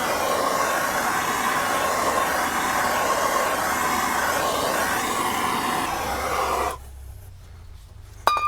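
A heat gun or torch roars steadily while warming a stuck Bravo 3 bearing carrier, a loud broad whooshing blast close by that cuts off abruptly near the end, leaving quiet handling noises.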